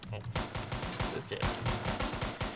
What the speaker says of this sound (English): Shots fired on officer.